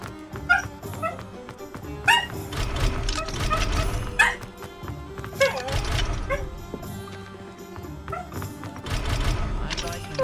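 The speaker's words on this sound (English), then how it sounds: "I'm sorry if you can hear the dog whinging." A dog whines and yips in repeated high, wavering bursts throughout, close by, while a person talks softly in the background.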